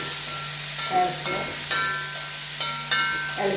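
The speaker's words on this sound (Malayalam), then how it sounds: "ഇനി ഇതിലേക്ക് ചോപ്പ് ചെയ്ത് വെച്ചിരിക്കുന്ന ടൊമാറ്റോ ആഡ് ചെയ്യും. നല്ല മാതിരി ഇളക്കി" Onions and chopped tomato frying in a pan give a steady hiss and sizzle, broken by soft scraping thumps as they are stirred, close and even.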